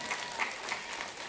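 Audience applause in honour of a justice and his wife at a gathering, a brief burst of many hands clapping together, dense and fairly soft, as if heard from a short distance.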